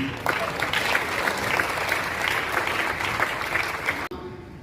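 Dense, sustained applause from a large audience at a Hindi comedy poetry gathering (hasya kavi sammelan), steady and loud for several seconds before cutting off abruptly near the end.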